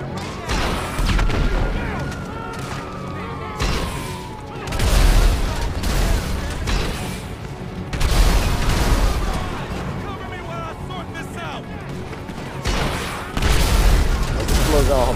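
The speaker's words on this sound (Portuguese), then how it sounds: "Explosão, rapaziada." Explosions in the video game GTA 5 Online on Xbox Series S, with several deep booms and rumbling blasts spread across the stretch, some loud, mixed with gunfire-like bursts while someone talks over them.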